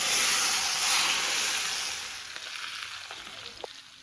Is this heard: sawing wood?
no